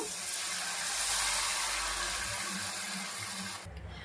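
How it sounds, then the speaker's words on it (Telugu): Tamarind juice pours steadily into a hot pot of vegetable curry with a soft hiss and gurgle, stopping abruptly near the end. "ఇప్పుడైతే చింతపండు రసం వేస్తున్నాను నేను"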